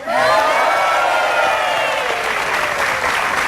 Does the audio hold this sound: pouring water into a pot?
no